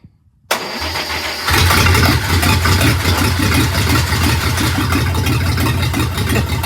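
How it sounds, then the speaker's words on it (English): A World War II Clarktor tug's engine cranks briefly after silence, then fires and settles into a loud, steady mid-pitched rumbling idle close by. "I started without gear. And it fires up."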